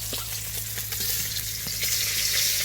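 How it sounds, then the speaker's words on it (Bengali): Small fish frying in hot oil in a village kitchen crackle and spit steadily, sharp pops scattered over a dense, continuous sizzle heard up close with no voices. "এত ফাটছে, লাল লাল করে ভাজা হয়ে গেছে।"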